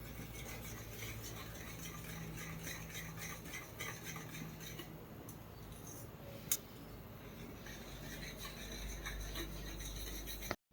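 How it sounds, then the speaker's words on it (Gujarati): Homemade ghee simmering in a pan in a home kitchen, giving a steady, quiet bubbling sizzle with faint stirring scrapes and one sharp click near the end. "તો ગાઈઝ આ બાજુમાં તો ઘી બની રહ્યું।"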